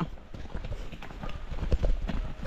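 A horse's hooves clip-clop close by for a moment on rural ground among fruit trees, steady uneven steps under faint background voices.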